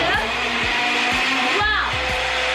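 An Oster P8260 personal blender whirs loudly and steadily up close, its motor pitch wavering in short repeated pulses as the blade churns.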